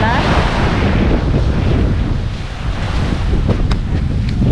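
Surf rolls in steadily at Dinadiawan's white sand beach, a loud continuous wash of breaking waves mixed with heavy wind buffeting the microphone, with no pause across the stretch.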